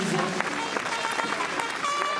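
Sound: audience applause

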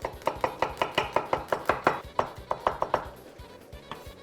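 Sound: knife chopping garlic cloves into pieces

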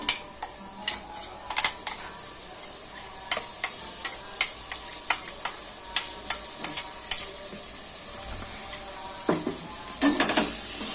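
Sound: coriander and mint paste frying in a pan

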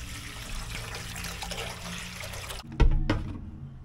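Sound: water being poured for salt brine

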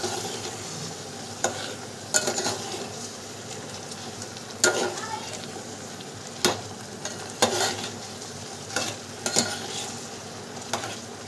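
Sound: masala spices being fried and stirred in oil

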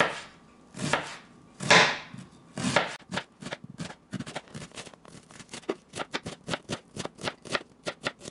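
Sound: knife chopping onion

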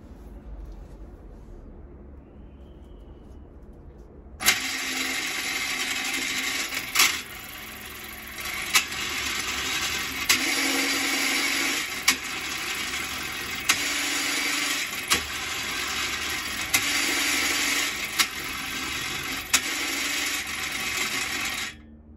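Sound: motor running a homemade reverse gear made from recycled bicycle parts

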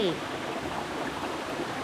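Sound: waterfall stream water flowing

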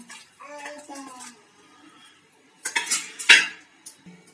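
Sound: soy chunks (meal maker) moved into fresh water in a bowl

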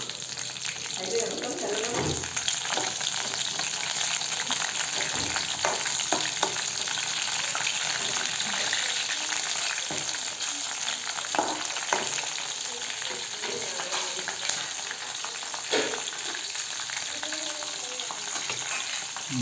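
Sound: green chillies frying for chicken biryani

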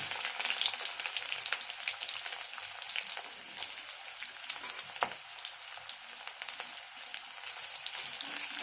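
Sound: onions frying in oil with panch phoron

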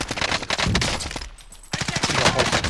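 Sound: gunfire in video game Call of Duty: Modern Warfare

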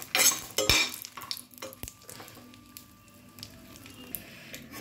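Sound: dried red chillies frying in mustard oil

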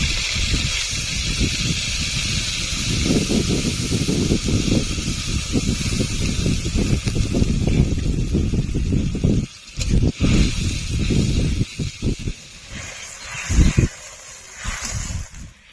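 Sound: masala-rinsing water poured into hot pan, sizzling

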